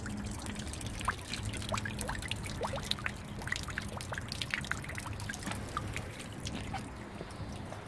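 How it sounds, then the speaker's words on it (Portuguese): Water trickles and drips steadily from a snake-mouth fountain at the Palácio de Cristal in Porto, making a continuous soft splashing with small droplet patters close by. "Porque ela tá entornando a aguinha lá dentro, lá, ó. E vai sair na boca da cobra."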